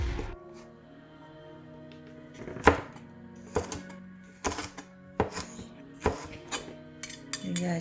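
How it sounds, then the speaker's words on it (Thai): Knife chopping ingredients for a pizza salad on a cutting board, a run of sharp, irregular close chops with clacks against the board, alone without talk. "หั่นให้เสร็จก่อนค่อยมาดูเนาะ"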